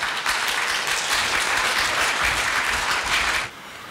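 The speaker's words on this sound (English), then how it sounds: "Let's give them a welcome round of applause." An audience at an Indonesian alumni reunion in Jakarta applauds a men's octet, dense sustained clapping at a steady loud level that stops abruptly near the end.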